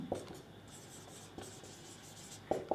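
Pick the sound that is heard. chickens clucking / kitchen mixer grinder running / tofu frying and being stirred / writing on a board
writing on a board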